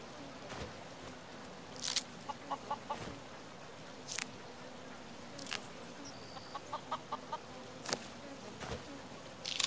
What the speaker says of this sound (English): That is a chicken.